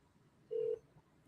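A single short electronic keypad tone from a phone being dialed rings out cleanly for about a quarter second, alone against a faint, quiet room background.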